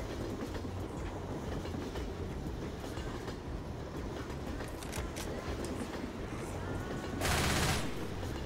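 Train in a video game rolling along the tracks with steady rumbling clickety-clack, a continuous mechanical rattle that swells into a louder, harsher burst near the end.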